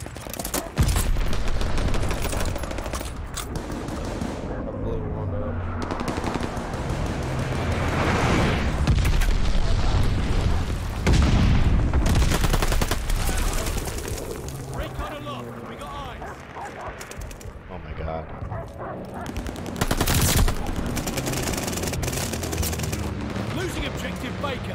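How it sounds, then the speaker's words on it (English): Heavy gunfire and booming explosions, including a glide bomb strike, in a video game battle, a dense, loud and continuous clamor of shots and blasts with people talking over the top. "Friendly sending a glide bomb."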